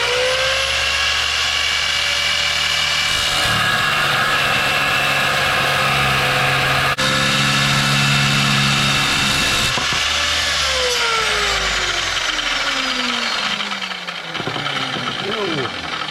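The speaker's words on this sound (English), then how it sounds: "I got this here cut off saw from Harbor Freight, so that way I don't have to use the hand saw" A Harbor Freight cut-off saw cuts through metal with a loud, sustained motor whine and grinding, then winds down toward the end. A voice can be heard in places.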